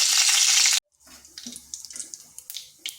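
Whole cumin, a bay leaf, a dried chilli, cardamom pods and cinnamon pieces hit hot oil with a loud burst of sizzling, then settle into quieter, sporadic crackles and pops.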